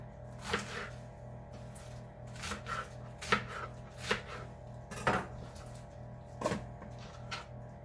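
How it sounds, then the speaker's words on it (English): Lettuce being chopped on a board, with a series of crisp, irregular knife strikes spaced about a second apart and close by, over a steady low background hum. "I like to chop my lettuce first and then rinse it off."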